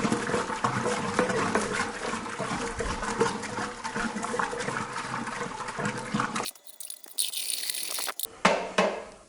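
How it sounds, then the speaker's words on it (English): Beer wort is roughly and vigorously stirred in a fermenter, making a dense, continuous churning slosh that stays loud for several seconds, then drops away abruptly near the end, with some shorter bursts of swirling afterward. "Now just adding a bit of oxygen to it as well, by just giving it a bit of a rough stir."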